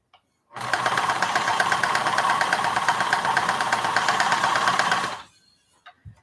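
A sewing machine stitching across a project bag, running steadily for about four and a half seconds with a fast, even mechanical whir and needle rattle, starting and stopping abruptly, close and loud with no speech.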